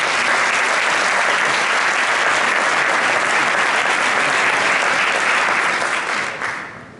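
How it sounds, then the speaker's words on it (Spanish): An audience at a book presentation in Toledo applauds steadily and loudly for about six seconds, a dense wash of clapping that thins and fades away at the end. "Voy a pediros un aplauso para nuestro primer interventor."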